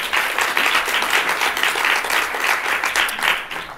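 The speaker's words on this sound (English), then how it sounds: "Just a round of applause for her as well" Audience at a conference welcome session applauds warmly, dense steady clapping filling the room for a few seconds, loud and without talk.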